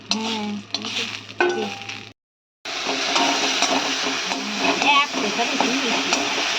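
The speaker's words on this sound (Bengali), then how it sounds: "তো দেখতেই পাচ্ছেন একটু টমেটো আদা রসুন দিয়ে ভাজছি।" Tomato, ginger and garlic fry in a pan with a busy close sizzle and stirring; someone talks over the first two seconds, then a brief silence before the frying continues on its own.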